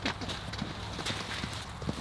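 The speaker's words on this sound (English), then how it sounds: "Oh, man, the speed of a horse." A horse gallops at speed, with quick rhythmic hoofbeats thudding over faint background noise and a brief voice in the distance.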